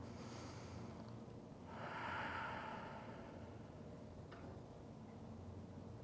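A single slow, soft breath drawn in through the diaphragm in a quiet room, with a faint hiss and nothing else around it.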